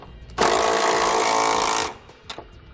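A power wrench rattles loudly for about a second and a half while tightening the bolts of a Curt trailer hitch receiver on a 2018 Hyundai Santa Fe, then stops, followed by a couple of light metallic clicks.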